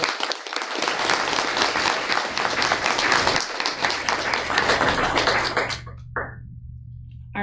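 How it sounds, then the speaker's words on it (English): Audience applause at a board of education meeting, dense and steady clapping from a roomful of people that cuts off abruptly near the end, leaving a low hum with a few stray claps. "Let's give them another round of applause."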